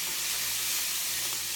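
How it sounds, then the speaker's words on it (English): Steady, close sizzling of pancetta frying in a pan after white wine has evaporated, a constant bright crackling hiss with no talking. "the white wine has evaporated and the pancetta is sizzling"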